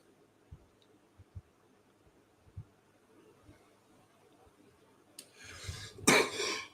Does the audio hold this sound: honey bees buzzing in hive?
no